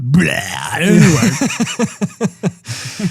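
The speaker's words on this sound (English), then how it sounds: "I burped." A single drawn-out burp from a podcast host during a recap of E3 gaming news, close and loud, followed by a few short grunting or laughing voice bursts.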